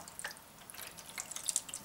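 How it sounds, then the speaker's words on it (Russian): Beer poured into the meat gravy around a lamb shoulder in a pan: a quiet, steady liquid trickle with faint splashing and small bright drips, close by, with no talking. "Я налью сюда немного пивка."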